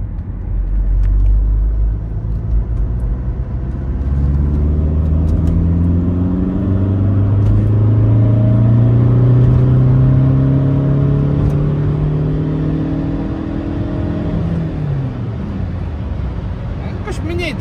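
An Alfa Romeo 156 1.9 JTD diesel revs up steadily accelerating in third gear, its rising drone climbing in pitch over several seconds before easing off near the end.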